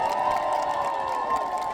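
Campaign rally crowd for a presidential candidate in Yongin, loud cheering and applause with shouts rising together in a dense, sustained roar.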